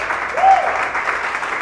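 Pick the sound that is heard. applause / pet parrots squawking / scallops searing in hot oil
applause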